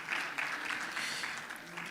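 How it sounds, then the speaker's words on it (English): Brief burst of audience applause at a finance summit panel introduction, a dense patter of clapping from a seated crowd, fairly even and close for about two seconds. "Please a round of applause for Paul Mante."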